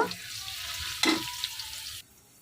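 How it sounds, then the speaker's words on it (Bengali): Chopped ginger sizzles in soybean oil in a pan with already fried onions, a close, hissing fry with a brief clatter of stirring in the middle, lasting about two seconds before it cuts off. "আদা কুচিটাকে আমি একটু ভেজে নিব"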